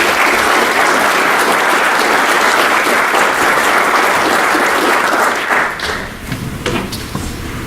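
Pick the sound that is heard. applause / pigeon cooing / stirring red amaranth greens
applause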